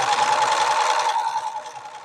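A sewing machine stitches steadily through fabric while the thread piles up near the back of the presser foot, a continuous close, fairly loud mechanical whir with a rapid even rhythm that eases off slightly toward the end.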